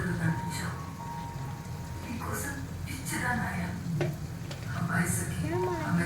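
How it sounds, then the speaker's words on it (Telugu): A ladle stirs drumstick curry with chili powder in a pan, scraping and sizzling over low heat while a person talks over the cooking sounds. "ఇప్పుడు మనం తిప్పాలి, గరిటె పెట్టి మనం తిప్పాలి."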